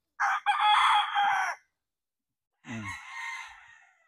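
A Golden Boy rooster crows twice, close and loud: a long full call, a pause of about a second, then a second crow that trails off.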